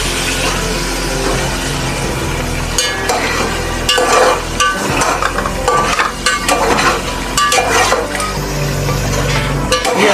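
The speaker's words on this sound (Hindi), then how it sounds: "ये हमने 1 से 2 मिनट सिर्फ आलू को और मटर को भूनना है" Potatoes and peas frying in a pot for pulao, a loud, steady sizzle filling the whole stretch, with repeated scraping and clinking from stirring close by.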